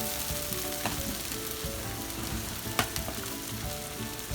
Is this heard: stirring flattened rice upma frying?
yes